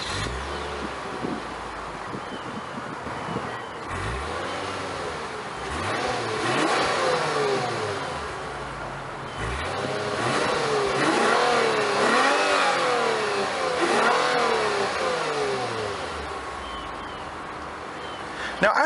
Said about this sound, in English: the car still does make quite an impressive sound when you get on the gas.